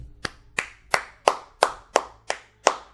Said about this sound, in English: I clap it up to him, I applaud him.